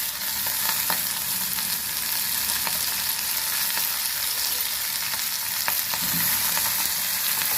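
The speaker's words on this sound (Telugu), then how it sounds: "ఇదిగోండి, వేయించేస్తున్నాను. తొందరగా అయిపోద్ది." Washed ponnaganti leaves fry in a pan with a steady, loud sizzle and a few faint stirring clicks, no voices over the crackle.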